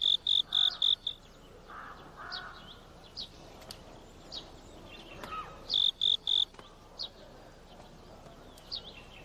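A pet cricket chirps in short, loud, rhythmic bursts near the start and again midway, with faint insect and frog-like calls in the quiet background between bursts.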